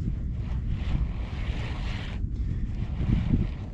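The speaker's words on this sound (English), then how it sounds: "the wind's really blowing me the way I don't want to go" Wind blows hard over a small fishing boat on the water, giving a steady low rumble of microphone buffeting with a faint splash of waves and no talk.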